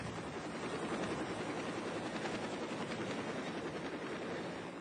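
A helicopter flies over a seal-hunting area, carrying a work crew that follows the hunters. Its steady broadband rotor and engine roar is faint and distant, continuous throughout with no voices.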